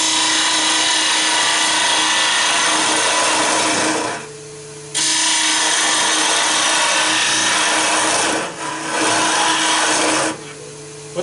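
A wood lathe turns a Japanese style cup while a modified cutter with Viceroy nose geometry scrapes the spinning wood, making loud continuous rasping cuts that break off twice into a quieter motor hum before resuming.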